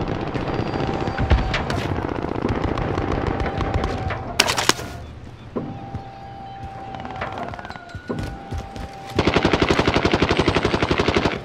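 Automatic sentry gun in a multiplayer shooter video game firing sustained bursts, with dense overlapping gunfire, a sharp blast near the middle and a loud rapid burst toward the end, no talk.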